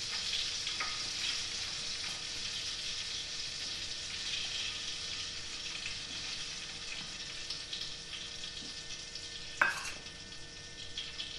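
Gumbo mixture with flour being stirred constantly in a pot, giving a quiet, continuous scraping and sizzling hiss with one sharper clink of the utensil near the end; no speech.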